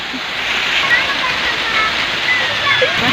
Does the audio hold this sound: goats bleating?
no